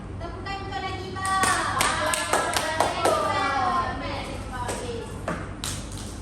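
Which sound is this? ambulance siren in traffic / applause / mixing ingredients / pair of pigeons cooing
applause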